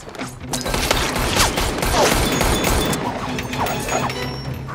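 Gunfire in the Deadpool 2 action movie, a loud, dense barrage of rapid shots mixed with crashes and mechanical clatter that runs without a break.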